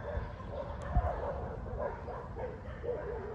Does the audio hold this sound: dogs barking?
yes